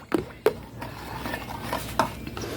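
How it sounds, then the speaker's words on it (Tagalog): Creamy macaroni salad being stirred with pasta in a bowl, faint soft scraping and a few light utensil clinks against the dish. "Hinahalo ko muna siya maigi."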